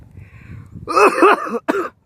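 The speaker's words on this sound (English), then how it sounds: "Oh no, I'm coughing." A couple of harsh, close coughs from a man after vaping a disposable vape, the second burst shorter and sharper after a brief pause, with faint low rumbling before them.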